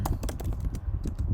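Keyboard keys tapped as shortcuts are entered in a Jupyter Notebook on a computer, a quick run of about a dozen crisp clicks in an irregular rhythm, close and fairly quiet, with no voices.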